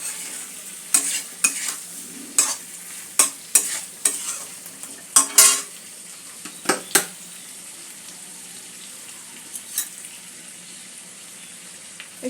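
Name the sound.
sautéing spices with almond and poppy seed paste, cauliflower curry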